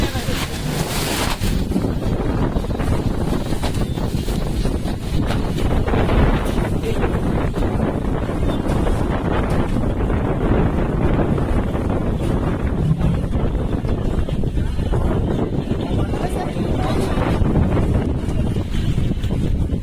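Strong wind at a hill station viewpoint in Matheran, Maharashtra, buffeting the microphone in a loud, continuous low roar that barely lets up for twenty seconds.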